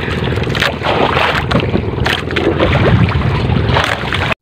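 Motorboats circle close by on open water, a rough continuous engine drone mixed with wind buffeting the microphone and water noise, loud throughout.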